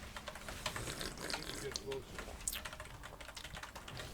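Rapid computer keyboard clatter during a World of Warcraft PvP fight, keys tapped in quick irregular bursts at moderate volume over game sounds.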